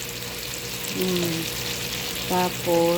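Food sautéing in a frying pan for a Filipino home-cooked dish, a steady close sizzle running throughout while a voice talks briefly over it.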